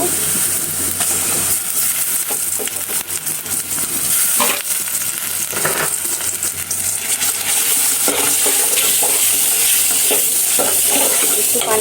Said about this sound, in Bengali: এখন আমি এখানে আদা আর রসুন বাটাটা দিয়ে নিব